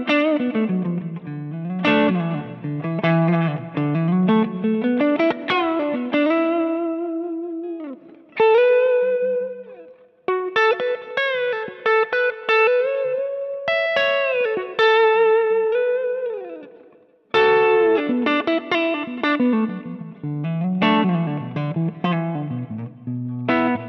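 Clean electric guitar through a Kemper profile of a Plexi normal channel with no bright cap, turned very clean, playing chords and melodic lines with a warm, round tone and some sustain, loud and alone with short pauses between phrases.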